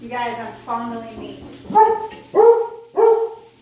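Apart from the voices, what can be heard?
dog barking at a knock on the door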